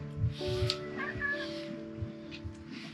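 Cats meow near an outdoor wood-fire pork belly grill, giving a few short high cries amid crackling and soft voices.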